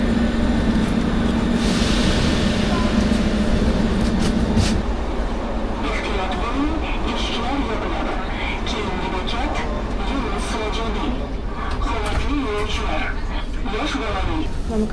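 A metro train in Uzbekistan rumbles steadily with a low hum that drops away after about five seconds, leaving a busy, continuous carriage noise with voices in the background.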